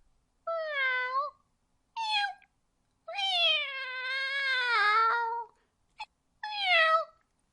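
A human voice imitates a cat, giving five separate meows of varying length, one long and drawn out, loud and close against silence.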